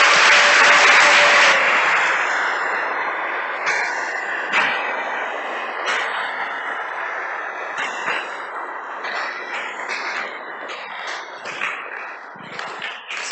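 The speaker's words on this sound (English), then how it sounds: "One more round of applause for him" Sustained audience applause at a Sunday temple feast program, a dense wash of many hands clapping that starts loud and gradually thins out into scattered individual claps over several seconds.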